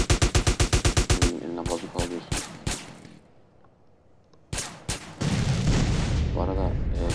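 Gangsters open fire with guns in the GTA San Andreas video game, a rapid burst of loud shots at the start, then scattered single reports and a renewed dense volley, with a voice talking among them.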